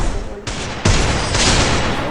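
Loud, dense bursts of rapid gunfire from a mobile shooter video game, several overlapping volleys in quick succession with a heavy boom near the middle, filling the whole stretch.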